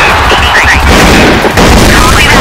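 A grenade explosion and gunfire in the Crossfire shooter game, with a loud, continuous booming and crackling barrage filling the whole stretch and game voice calls mixed in.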